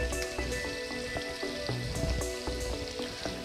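Chicken liver frying in hot oil with turmeric powder, giving a steady, close crackling sizzle with dense popping throughout and no talking.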